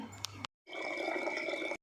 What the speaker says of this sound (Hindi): तो भैया 1 लोटा पानी भर के पी ले।